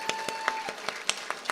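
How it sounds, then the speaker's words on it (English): Sparse, faint clapping from a small audience at a university ceremony inaugurating an Asian American and Asian Studies major, with roughly evenly spaced sharp claps and no voices. "another round of applause for our amazing students"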